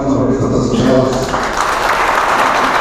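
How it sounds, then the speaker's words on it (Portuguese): Applause at a community tribute ceremony honouring former mayors in Caxias do Sul, a broad wash of clapping that starts under a speaking voice and swells to steady, loud clapping from the whole room. "uma salva de palmas mais uma vez para essas belas"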